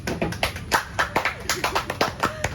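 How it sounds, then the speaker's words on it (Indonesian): A small group claps for an athlete during a sports interview, giving a handful of close, distinct claps in a quick, slightly uneven rhythm. "Berikan tepuk tangan dulu guys"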